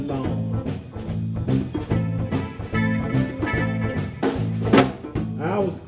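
Blues music in the style of old juke joints, a steady rhythmic groove with warm low notes and plucked melodic lines, moderately loud and playing throughout.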